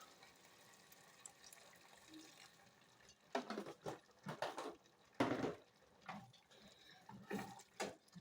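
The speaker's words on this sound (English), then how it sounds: "I'm going to put like half a cup of boiling water because of the tomatoes" Half a cup of boiling water poured into a vegetable stew with tomatoes, several short splashing bursts in a quiet kitchen.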